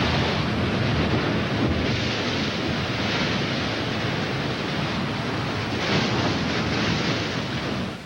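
Waves crash and surge on a rocky shore in a continuous loud, broad roar of surf with some wind buffeting. Brief swells rise and fall with no voices.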